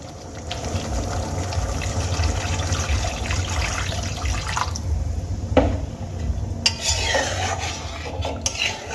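Water goes into a pan of mustard fish curry, a close watery sloshing and stirring with a brief break and some clinks near the end.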